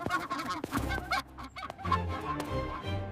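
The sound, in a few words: goose honking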